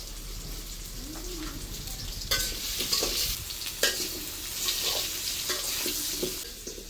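Potatoes with salt and turmeric frying in oil, with a steady close sizzle and occasional stirring clatter, and faint bird calls behind.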